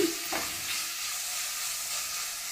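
Tomatoes sizzle and fry in a pan for aloo palya, a Karnataka potato dish, with a steady close hiss and a brief stirring scrape near the start.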